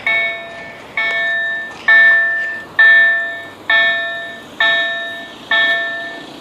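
Railway level crossing warning bell at Stawiguda in Warmia-Masuria, Poland, ringing loud and close in a steady repeating rhythm of about seven evenly spaced strikes, each ringing out and decaying, with no talk over it.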